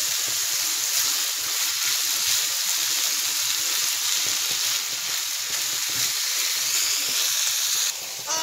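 Tomato sauce poured into a hot pan sizzles with a loud, continuous hiss and crackle that holds steady and then shifts abruptly near the end.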